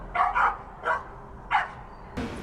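A Dachshund Cocker Spaniel mix puppy barking close by, four or five short high yips in an uneven rhythm, ending in a sudden noisy burst.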